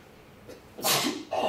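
A single close sneeze bursts out after a quick breath in, loud and sharp, followed by a short exhale.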